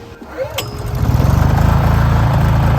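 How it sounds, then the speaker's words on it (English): A portable backup generator on non-ethanol fuel is pull-started and catches within a second, settling into a loud, close, steady rhythmic engine chug after a short rising pull. "So that startup right there is a result of using non-ethanol fuel in this generator"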